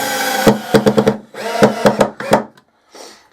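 A 12 volt electric screwdriver drives 40mm screws into wood: close, loud bursts of motor whir with sharp clicking knocks in quick rhythmic groups, then silence and a faint tail.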